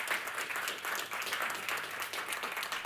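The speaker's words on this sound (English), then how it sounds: "Almut, please give a warm applause." Audience applause fills a game audio conference hall in Oslo, a steady dense clapping from a crowd that carries on evenly without a break and with no talk over it.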